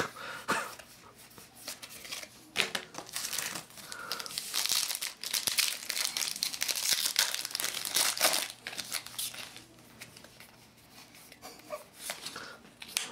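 A Star Wars trading card booster pack wrapper crinkles and tears as it is opened, with bursts of plastic crumpling close up, rising and falling in irregular handling.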